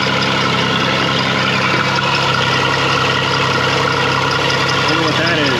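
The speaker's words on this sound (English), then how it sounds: "I hear an exhaust leak." A 2006 Pontiac Montana's engine idles with an exhaust leak, a steady close-up rumble with a busy, rough texture holding even throughout.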